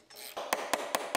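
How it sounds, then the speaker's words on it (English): A quarter-inch ratcheting hammer pounds a socket onto a steel nut on a damaged Lexus IS250 body structure, giving four sharp, evenly spaced metallic taps, loud and close, over a low background hum. "we'll just pound our socket on there with our ratcheting hammer, quarter inch ratcheting hammer"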